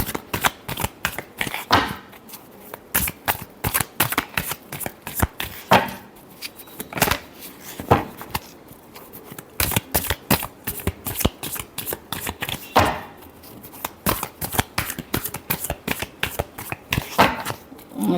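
Tarot cards are shuffled close up and loud for a long stretch, a dense run of sharp papery snaps and riffles broken by a few brief pauses, with no voice over them.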